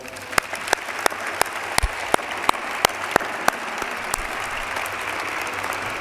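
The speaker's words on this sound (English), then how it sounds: "Please join me in one more round of applause for all of them." At a student athletics awards ceremony, a large audience gives a round of applause, a continuous wash of clapping punctuated by sharp, close individual claps that ring out in a loose rhythm.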